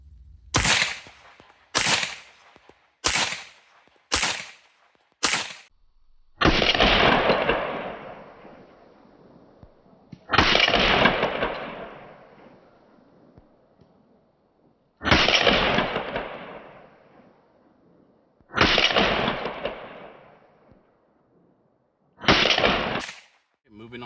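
Federal Syntech 124 grain rounds fired from a Smith & Wesson Competitor pistol, five sharp shots in quick succession followed by five slower, evenly spaced shots, each ringing out with a long echoing decay.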